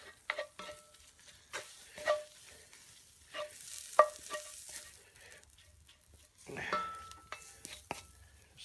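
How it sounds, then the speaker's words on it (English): A seasoning mix is stirred into tortilla soup in a pot over an off-grid wood fire, giving soft intermittent scrapes and clinks with a light sizzle, fairly quiet, with no talking. "we're going to give that a good stir around"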